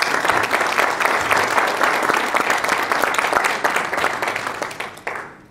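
Warm, dense applause from an audience greeting speaker Julio Raffo, loud and continuous before fading out at the end.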